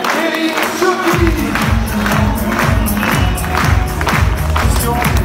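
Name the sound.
crowd applause and cheering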